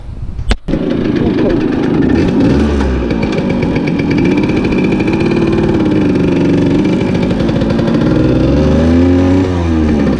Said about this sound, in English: So I'm going to tune it back just a little bit better, and then we're going to hop on it. We're going to ride it around real fast.